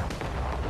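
Naval cannon fire in an Assassin's Creed Rogue sea battle, a dense booming roar of guns that fills the whole moment, loud and close with no talk over it.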